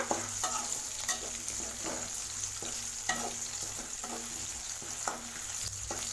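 Garlic and shallots sautéing in a pan for a bitter gourd curry, a steady close sizzle broken by repeated clinks and scrapes of stirring, no voices.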